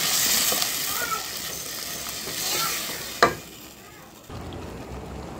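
Ready-made tomato sauce sizzling and frying in a pan for pasta, a steady hiss that fades, with a sharp clink of a utensil midway and quieter frying afterward.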